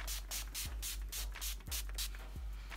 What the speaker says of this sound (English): I'm gonna spray everything using my Urban Decay All Nighter setting spray